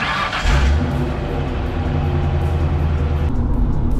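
A truck fitted with a 5.0 Mustang engine drives fast, its loud, steady engine drone swelling as it pulls harder and then holding a constant, close growl.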